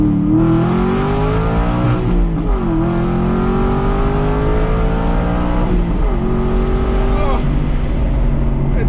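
A loud Aston Martin car engine revs and accelerates continuously, pitch climbing through gear changes with brief dips as it shifts.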